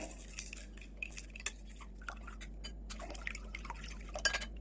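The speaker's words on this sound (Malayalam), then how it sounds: "ഇനി നമുക്ക് ഈ മുട്ടയിലേക്ക് ഒരു 1/4 ടീസ്പൂൺ കുരുമുളക് പൊടി ചേർത്ത് നന്നായിട്ടൊന്ന് ഇളക്കി കൊടുക്കാം" Eggs mixed with a quarter teaspoon of ground black pepper being stirred for egg parotta, giving soft irregular clinks and wet taps of utensil against bowl, fairly quiet and close, with no talking.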